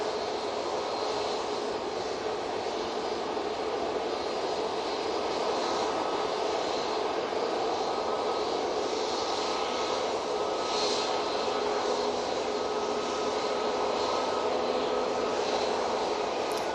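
Aircraft engines roar steadily at Manchester Airport during a busy morning, a continuous broad rumble and whine holding at even loudness throughout, with no talk over it.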